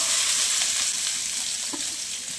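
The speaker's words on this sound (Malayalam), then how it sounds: "എണ്ണ ചൂടായി വന്നിട്ടുണ്ട് അതിലേക്ക് മൂന്ന് വലിയ സവാള പൊടിയായി അരിഞ്ഞതും രണ്ട് പച്ചമുളക് ചെറുതായി അരിഞ്ഞതും കൂടെ ചേർത്ത് കൊടുക്കാം" Chopped onions and green chillies sizzle steadily in hot coconut oil, a close, continuous frying hiss with no voices, staying even and loud for a couple of seconds.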